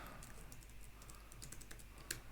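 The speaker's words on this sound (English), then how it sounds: "I know I'm frantically typing at the minute" Rapid typing on a computer keyboard indoors, a quick uneven patter of light key clicks with one sharper tap near the end, fairly quiet and alone.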